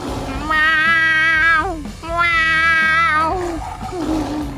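A cartoon character imitates a cat in two long, drawn-out, wavering meows with a falling tail, loud and close, followed by a shorter cry.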